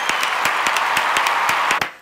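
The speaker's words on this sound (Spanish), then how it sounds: "Así que pido por favor que vos ahora te des unas palmas." One pair of hands clapping a quick, steady run of about eight claps over two seconds, close and fairly loud, alone before stopping.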